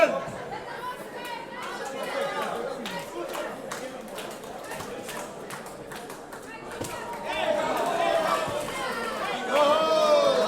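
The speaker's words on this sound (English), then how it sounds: "Crowd has begun chanting for Viddal." A boxing crowd in an arena chants for fighter Viddal Riley at a Badou Jack Promotions knockout night, a far, dense roar of rhythmic voices swelling toward the end, with commentators talking over it.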